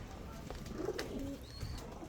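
A female long-distance racing pigeon gives a soft, low coo amid faint background noise, with a brief higher whistle-like sound shortly after.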